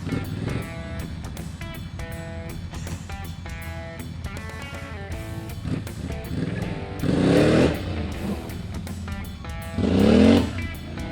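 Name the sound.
ATV engine revving during a wheelie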